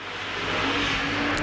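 A super saloon race car accelerates hard at Baypark Speedway, a rising engine roar building in pitch and loudness over a second and a half, heard alone at moderate distance.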